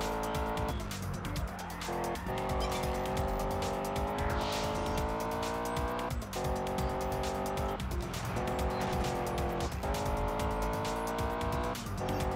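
A Lamborghini races in the video game Test Drive Unlimited on PS2, its engine droning loudly with repeated rising revs and sharp drops at gear shifts, tire squeal mixed in, alone without talk.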